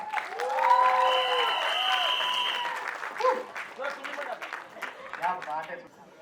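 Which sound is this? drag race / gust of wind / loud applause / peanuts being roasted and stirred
loud applause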